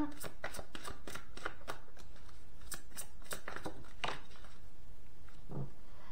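Tarot cards are shuffled and drawn, with a rapid run of crisp riffling snaps and slaps followed by a softer card placed down. A voice talks faintly underneath.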